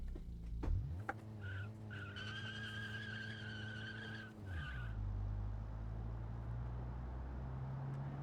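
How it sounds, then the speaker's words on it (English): A car engine in the game Automation revs and its tires screech while peeling out, a sustained whine like an old 4-cylinder truck that cuts off and gives way to rumbling engine noise. "The way it's trying to peel out kind of sounds like an old 4-cylinder truck."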